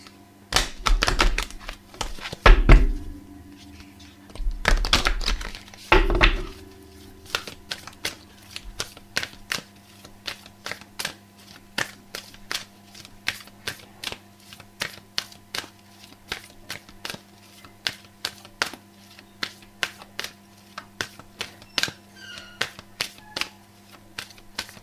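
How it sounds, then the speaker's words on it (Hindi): Tarot cards are shuffled close by: a few loud riffling bursts early on, then a long run of light, irregular taps and flicks over a faint steady hum, with no talking. "तो जब तक आप ये करेंगे प्रैक्टिस, मैं कार्ड्स शफल कर लेती हूँ"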